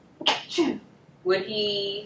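A single sharp human sneeze, close and fairly loud, followed by a person speaking.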